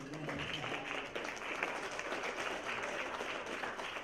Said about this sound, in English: Just give us a round of applause